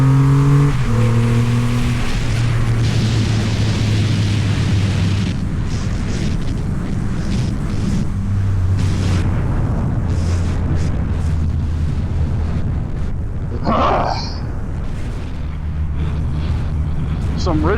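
Bentley car engine revving nearby in traffic, a loud rising roar with deep exhaust booms, heard against road noise and other engines, with a voice speaking over it.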